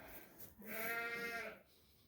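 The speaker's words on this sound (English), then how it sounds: "I don't know what that little lamb is doing sticking his head through the gate like that." A young lamb on a working sheep farm gives one wavering, faint bleat lasting about a second, set against quiet outdoor background.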